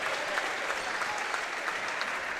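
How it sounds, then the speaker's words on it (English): Crowd in a high school gym applauding at a girls' basketball game, a continuous wash of many hands clapping at steady volume. "Nice round of applause for Olivia Hawkins,"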